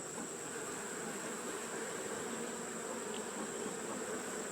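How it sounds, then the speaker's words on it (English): Bees buzz in a steady, faint swarm around a hive and a one-gallon jug feeder after a little smoke has been used, a continuous hum with no voices. "there's going to be quite a few bees in the hive"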